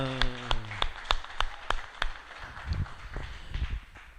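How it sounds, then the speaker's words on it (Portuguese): Church congregation clapping in a slow, regular rhythm, sharp distinct claps about three per second, with a voice at the start and lower thumping later as the pattern loosens. "Salve de palmas ao Senhor."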